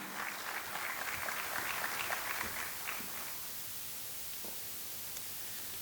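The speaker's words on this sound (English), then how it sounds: "Can I have a thunderous round of applause for our vice chairman?" Audience applause after a host's call to welcome a vice chairman at a taxes and compliance event, a fairly quiet, steady patter of clapping that fades out about halfway through, leaving low background hiss.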